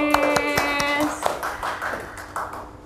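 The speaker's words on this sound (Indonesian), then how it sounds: "Kita tepuk tangan dulu buat karyanya Mas Agnes." Audience in an Indonesian school OSIS podcast session applauding, a short burst of scattered hand claps with a ringing tone early on, then thinning into softer claps and murmur.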